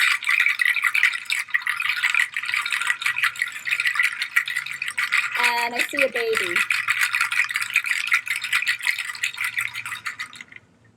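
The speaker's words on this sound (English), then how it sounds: "I hope you're able to hear over the shaker." A shaker rattles continuously in a dense, steady hiss throughout, with a person speaking briefly underneath before it cuts off near the end.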